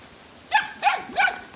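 Three sharp barks from a dog, evenly spaced and moderately near, outdoors by a small pond with faint background noise between them.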